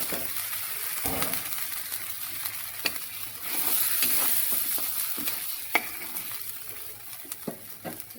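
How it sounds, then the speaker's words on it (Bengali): Roasted mung dal and spices sizzle and fry in a pan under repeated stirring, with a continuous hiss broken by scraping strokes and occasional clicks from the utensil. "এবার ভেজে রাখা মুগ ডালটা দিয়ে দিব।"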